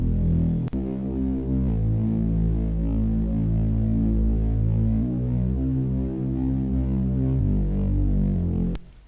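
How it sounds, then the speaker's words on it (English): A thick, sustained Reese bass from the break of an electronic track, droning loud and continuous with stepped note changes every couple of seconds and no voice over it. "So the most important element of the break here would be the Reese bass"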